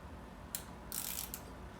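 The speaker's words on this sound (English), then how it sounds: "in my case, you can use the ratcheting wrench" An 8mm ratcheting wrench working a strut stud and nut, giving a few quick, faint ratchet clicks in short bursts against a quiet background.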